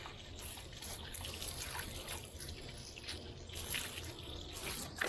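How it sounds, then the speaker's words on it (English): Running water rinses slime off freshly caught crappie at home before filleting, a faint, steady trickle and splash from a tap with no talk. "I like to rinse the slime off my fish before I fillet"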